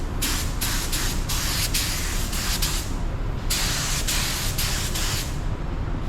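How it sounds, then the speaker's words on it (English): A Walmart HART paint spray gun sprays paint in a steady loud hiss, nearly continuous, with a short break near the middle before spraying resumes, and no talk over it. "This gun sprays pretty good, but I can't believe that gun sprays like that."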